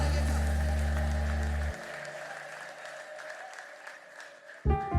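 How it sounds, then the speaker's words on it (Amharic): A church congregation claps in worship, a dense wash of applause that drops sharply after the opening as accompanying low music cuts out, leaving sustained clapping before a low thump near the end. "እልልታ ጭብጨባ ለጌታ"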